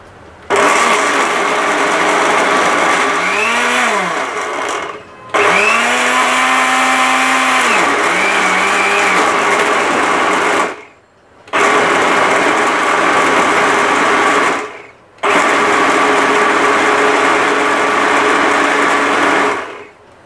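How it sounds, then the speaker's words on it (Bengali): An electric blender purées tomatoes for a hot tomato sauce, loud whirring runs of about five seconds each, cut by brief pauses, the motor pitch shifting as the blades work through the tomatoes. "তো এখন ব্লেন্ডার করে নিব"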